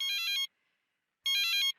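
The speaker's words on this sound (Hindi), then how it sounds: "अरे भैया, किसका फोन आ गया?" A mobile phone ringtone sounds in two short, bright melodic bursts separated by a gap of silence, close and clear, with no one talking.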